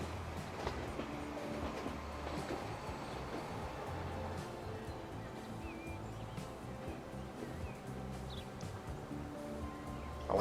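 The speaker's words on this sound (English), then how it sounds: "Hello, passenger train." A passenger train rolls past in the video game Transport Fever 2 as a low, steady rumble with faint rail clatter, moderately quiet and continuous throughout with no talk.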